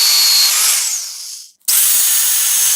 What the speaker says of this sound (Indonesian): Kemudian diputar dengan bor dan diamplas dengan amplas merah.